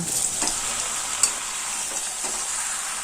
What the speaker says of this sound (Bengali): এবার এঁচড় মশলা আর আলুর সঙ্গে খুব ভালোভাবে মিশিয়ে দিচ্ছি।